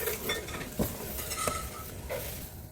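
Banana cake batter being stirred by hand in a mixing bowl, a steady close scraping and swishing with a few faint clinks, continuous and moderately loud with no talking.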